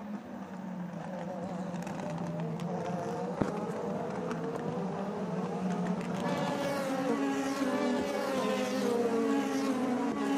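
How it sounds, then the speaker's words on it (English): A DTM race car driven by Timo Glock on the 2.3-kilometer Norisring circuit in 2017 screams past in the distance, its engine note rising and shifting steadily, with a faint sharp click partway through. "So the car's absolutely flying around this track"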